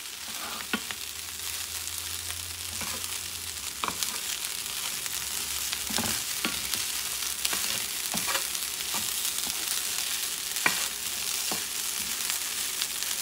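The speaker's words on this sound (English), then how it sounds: "Just mixing things up, okay? And you want the rice to get some of the patitas flavor." Puerto Rican rice with pork feet being stirred in a pot, a steady sizzle of frying beneath scattered scraping and stirring clicks, close and continuous with no talk.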